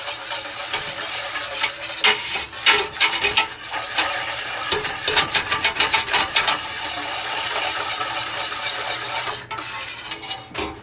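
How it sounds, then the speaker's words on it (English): Milk and cocoa powder are whisked together in a pot for homemade chocolate pudding, a loud stretch of rapid scraping, rattling strokes that speeds up in the middle and continues with no talking. "Whisk until combined."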